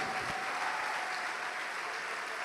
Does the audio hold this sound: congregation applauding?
yes